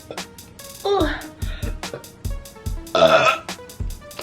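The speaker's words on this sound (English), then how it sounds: "Feels so good to burp even though I'm all dressed up and it's not ladylike." A girl burps repeatedly, several loud, wet belches in a row with short gaps, one breaking with a little hiccup, close and alone without talk.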